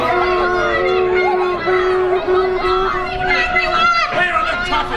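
A crowd jumps up and shouts, with many overlapping raised voices forming a loud, close, continuous clamour throughout.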